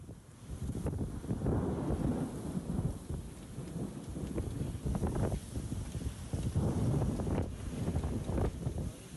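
A thunderstorm over Mecca brings steady heavy rain with rolling thunder and wind gusts, a dense continuous roar that swells and eases over several seconds.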